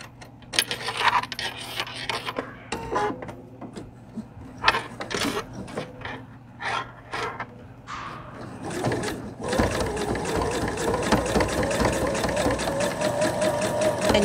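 Domestic sewing machine stitching in the ditch along a quilted seam with blue thread, first in short stop-start bursts with handling noises, then running steadily and close for the last several seconds.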